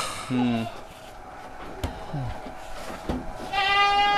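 Rambon goats bleat several times in a farm setting, a nearby wavering bleat at the start, a shorter one midway and a high, strained bleat at the end, over a noisy background with some talk.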